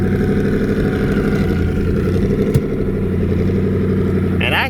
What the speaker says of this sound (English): the car is not as loud as you might think it is. It's light cruising, barely on the throttle.